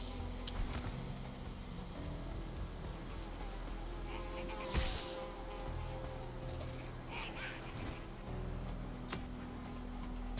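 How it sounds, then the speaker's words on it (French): Mosquito buzzing in the first-person view of the game Valheim, a thin, steady whine running through the whole stretch over a low game ambience, with a few brief clicks and thumps. "Saleté de moustique."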